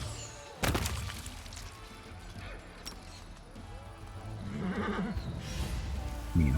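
Horses neigh and whinny amid clip-clopping hooves in a Might and Magic-style fantasy strategy battle, a sharp loud cry near the start and another toward the end over steady game noise.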